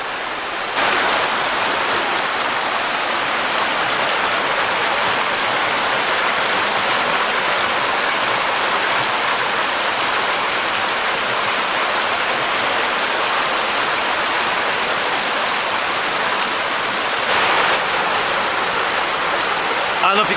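A steady, loud rush of falling water from a cascade of waterfalls at Black Springs Falls, a continuous broadband roar heard close by for the whole stretch with no pauses.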